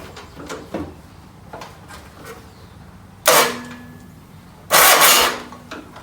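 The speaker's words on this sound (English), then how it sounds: "Starter's working." A John Deere 317 garden tractor's starter motor, jumped with direct current, cranks in two short loud bursts about a second each, harsh and whirring up close, separated by a brief pause after several seconds of faint clicks and rustling.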